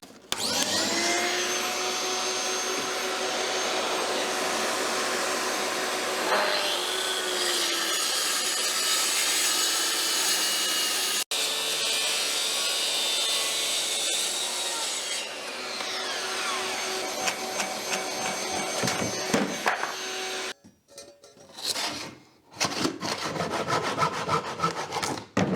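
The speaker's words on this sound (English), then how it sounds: "we might just chop off the end with the track saw" A track saw cuts through the ends of a thick, cupped Irish oak board, a loud continuous whining rip that runs for about twenty seconds with brief shifts in pitch, then stops and restarts in short bursts near the end.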